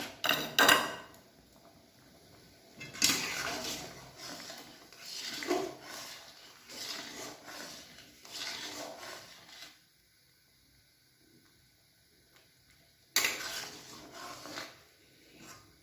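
Lentil dal with bottle gourd is stirred in a cooking pot, giving bursts of scraping and rubbing that recur over several seconds. Close and moderately loud, with a quiet gap before one last stirring burst. No voices.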